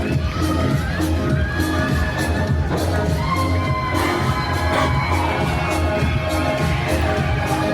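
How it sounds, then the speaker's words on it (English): Wrestling crowd at the CLB Armory cheering and shouting loudly and steadily, a dense roar of voices with whoops rising throughout, no clear speech on top. "He's got the CLB Armory crowd fired up this afternoon."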